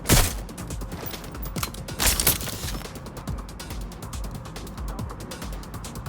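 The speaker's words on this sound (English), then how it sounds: "They won't stop shooting." Gunfire in the Watch Dogs Legion video game, a dense stream of rapid sharp shots and mechanical clatter, with heavier bursts near the start and around two seconds, then steady rattling fire throughout.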